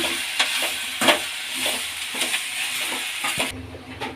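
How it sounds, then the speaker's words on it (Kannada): Tomatoes are stirred and fried in a pan with onions for street-style masala puri: a continuous sizzle with scraping spoon strokes and sharp clinks against the pan, close up. "ಈಗ ಟೊಮೊಟೊನ ಸೇರಿಸ್ಕೊಳ್ಳೋಣ ಚೆನ್ನಾಗಿ ಅದನ್ನು ಹುಡ್ಕೊಳ್ಳೋಣ"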